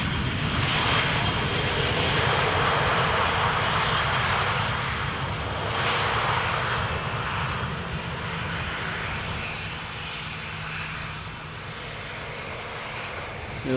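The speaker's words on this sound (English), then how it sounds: "Vueling in the old standard livery has just landed here." A Vueling jet airliner lands at Schiphol with a steady loud engine rumble and a rushing roar that fades slowly into a fainter wash of noise. No voices.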